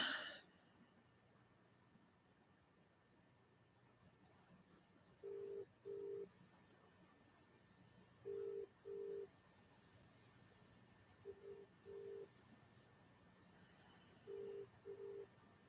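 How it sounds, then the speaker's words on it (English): A phone call rings out, with paired ringback tones repeating at regular intervals over a faint steady hum after a brief click at the start. "I'm just ringing Rupert"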